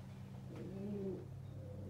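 A racing pigeon in its loft gives a soft, low rolling coo, close by and fairly quiet, over a steady background hum.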